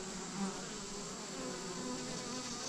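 Honey bees swarm over set-out honey supers above full hives, making a constant, even buzzing hum nearby, unbroken and without speech.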